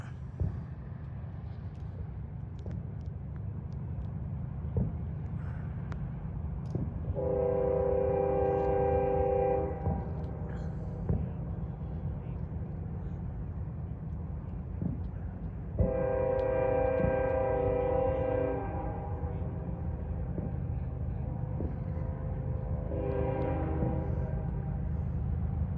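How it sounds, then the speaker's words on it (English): Canadian Pacific eastbound manifest freight train at a street crossing, its horn sounding in three separate blasts over a constant low rumble of the passing train, heard from a moderate distance. "Oh, now here comes the train."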